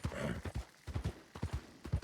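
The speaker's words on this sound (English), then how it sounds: "Pushing my horse to the limit" Horse galloping in the Red Dead WildRP game, a steady rhythmic drumming of hooves close by, regular beats repeating with no talk.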